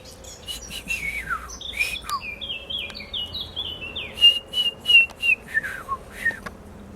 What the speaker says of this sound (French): C'est une rossignol.